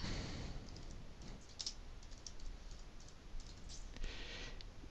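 Sparse, light key clicks from a computer keyboard as someone types entries into an Excel spreadsheet, fairly faint over a steady background hiss.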